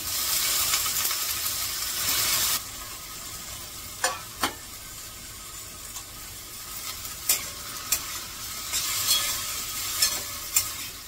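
A spoon stirs potato and cauliflower curry in a pan, with a faint background sizzle and a series of sharp scraping knocks against the pan at irregular intervals.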